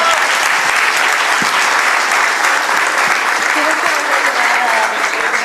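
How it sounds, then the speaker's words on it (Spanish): Sustained, loud audience applause at a Spanish-language tech talk on WebRTC and call centers, dense steady clapping filling the whole stretch without a break. "Un aplauso."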